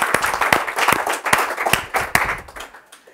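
Congregation at a Spanish-language church service clapping together in a burst of irregular, fairly close hand claps that thin out and fade toward the end.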